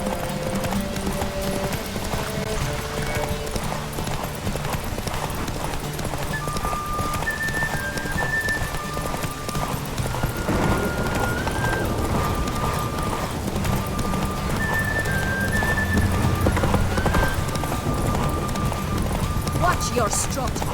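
Horses gallop in a race in Witcher 3, hooves clip-clopping rapidly and continuously with occasional neighs, while voices talk over the pounding throughout.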